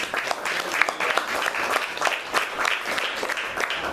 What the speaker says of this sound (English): Simon Chanukah, give him a round of applause.